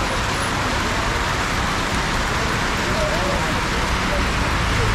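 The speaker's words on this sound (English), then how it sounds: "here in Bukoma it's raining like crazy" Heavy rain falling at Bukoma in Kenya, a loud steady broadband hiss mixed with passing road traffic, continuous and unbroken, with voices faintly present underneath.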